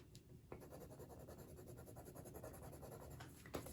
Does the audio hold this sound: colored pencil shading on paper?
yes